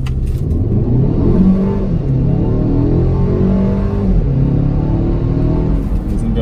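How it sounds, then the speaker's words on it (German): A 2019 Mercedes A250 (W177) pulls away from a standstill with start-stop disabled, on a slight uphill, its engine note rising steadily and loudly through the gears, heard close from inside the car over about six seconds. "Und drück jetzt mal aufs Gas."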